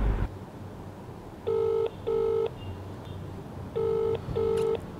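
Unanswered outgoing phone call: a ringback tone sounds in paired bursts, two rings, a pause, then two more, clear over a quiet room background with no talk.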